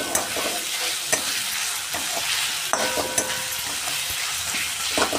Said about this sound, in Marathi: मिरची, आलं, लसूण जे मिक्सरमधून फिरवून घेतलेलं आहे ते आपण तेलामध्ये परतवून घेणार आहे